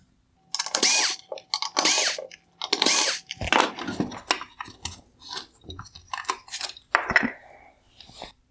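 T10 Torx screws being backed out of the LED headlight reflector of a 2016-2019 Mercedes-Benz GLS550, close and loud, with a series of squeaky, grinding bursts followed by lighter scraping and clicking.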